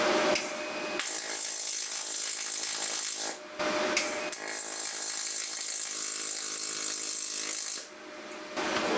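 Pulsed MIG welding on the exhaust of a zero-turn mower, single-pulse mode on a DP200 welder: three long stretches of steady, crackling arc hiss, broken by short pauses.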